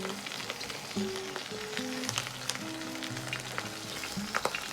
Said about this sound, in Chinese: 这个目的是煎出骨头表面多余的水分，煎出油脂